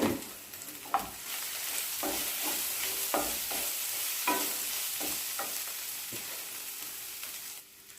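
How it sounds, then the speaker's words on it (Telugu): Turmeric being stirred into an okra and curd curry, a spoon scraping the pan in repeated strokes over a steady background sizzle, close and fairly quiet, with no voices. "ఇప్పుడు పసుపు వేసుకుందాం ఇది కూడా కలుపుకోవాలి"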